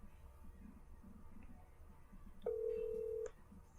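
A phone call being placed, with a steady electronic tone sounding for under a second after a quiet stretch of faint low background noise.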